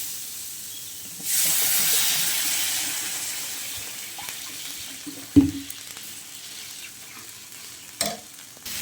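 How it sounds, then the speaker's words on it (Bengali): Water poured onto frying potatoes and pointed gourd bursts into a loud hissing rush of steam that gradually fades, with a couple of sharp clanks from the pan. "এখানে আমার ভাজাটা কমপ্লিট হয়ে গেছে। এখানে আমি এখন দিয়ে দেবো জল।"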